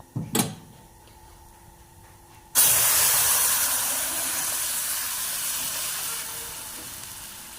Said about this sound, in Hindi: तो इसमें अब हम दूध डालेंगे।